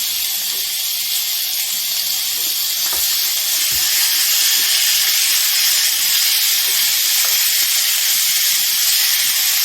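Pork chop with a temperature probe inserted, pressed down onto the hot grill plate of a Ninja Foodi Max Pro Health Grill, giving a steady, even sizzle and hiss throughout with a couple of faint knocks.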